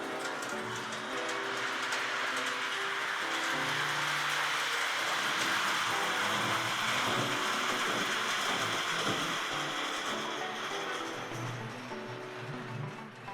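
A model train in a museum display runs after its green button is pressed, giving a continuous whirring, rattling hum with faint clicks that holds steady for several seconds and then fades slightly.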